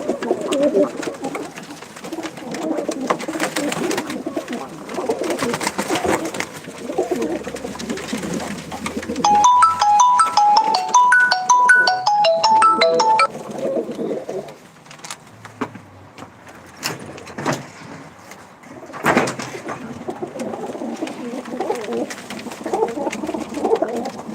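A flock of pigeons coos steadily throughout, a dense layered murmur with short bright chirps in the middle and a few knocks and clatters.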